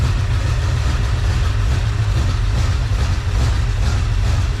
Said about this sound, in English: Idling at about 750.